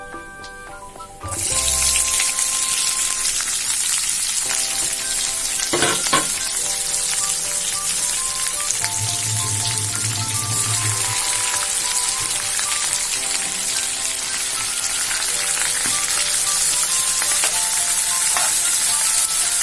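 Chopped onions and green chillies hit hot oil with tempering spices for a cluster beans gravy fry, bursting into a loud, steady sizzle that carries on unbroken with scattered stirring clinks and scrapes in the pan.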